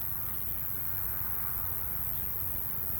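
Bees and other insects buzz steadily around a flowering bramble on a summer nature walk, a soft continuous hum close by without talking.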